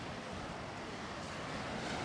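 Sea waves and wind at the shore in Portixol, Mallorca, forming a constant broad wash of surf and gusting wind noise on the microphone, with no voices.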